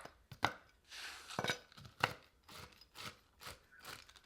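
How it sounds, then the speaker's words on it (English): A knife chops cashews on a board in quick, uneven strikes, about a dozen sharp close knocks with short gaps, no talking. "So I'm going to chop these up really fast."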